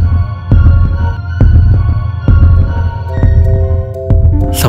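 A heartbeat sound effect inside a giant mangosteen: about five deep, evenly spaced thumps over a low droning hum and sustained tones, with no voices.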